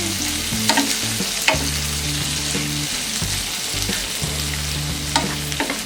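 Salted vegetables frying on a low flame in a pan for white sauce pasta, a continuous close sizzle with occasional stirring scrapes over a low steady hum.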